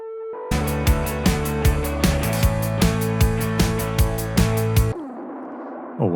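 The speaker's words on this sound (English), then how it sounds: "if we added a little bit of a distortion here, maybe like a fuzz, let's see what that sounds like" Electric guitar with tremolo and fuzz distortion playing a steady pulsing chordal riff, loud and close, each chopped stroke repeating evenly for several seconds before ringing out into a fading tail.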